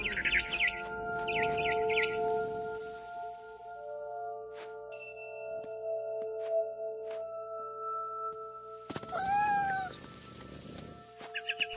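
A cat meows repeatedly in the video game What Remains of Edith Finch, set against sustained musical tones, followed later by bursts of scared barn swallow chirping and tweeting.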